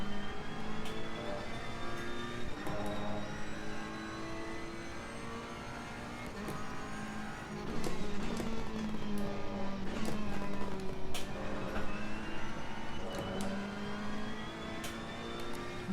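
Ferrari Evo race car engine in Assetto Corsa Competizione during the final lap of an online server race, a steady mid-pitched roar that revs and shifts through gears, fairly constant and moderately loud throughout.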